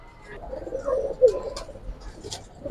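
Pigeons coo softly in a low, rolling murmur, two or three throaty phrases close by, with faint rustling and no talk; the birds are a red-pied (lal patti) breed.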